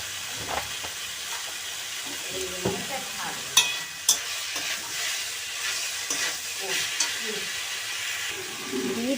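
Food fries in mustard oil in a pan while cauliflower cooks down, giving a steady close sizzle and hiss punctuated by scattered clicks and scrapes of stirring.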